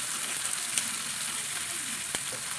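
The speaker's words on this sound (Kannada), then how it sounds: "ಇದಕ್ಕೆ ನಾನು ಕಟ್ ಮಾಡ್ಕೊಳ್ಳೋ ಈರುಳ್ಳಿ ಹಾಕ್ತಾ ಇದ್ದೀನಿ." Chopped onions frying in hot oil in a pan while cooking a spinach (palak) dish: a steady, close, continuous sizzle with faint crackles and a single sharp tap near the end, no talking.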